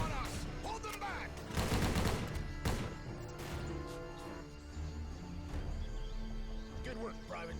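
Gunfire in a war video game, with bursts of rapid shots and crashing impacts near the start, then sporadic shots under a steady bed of in-game voices and music.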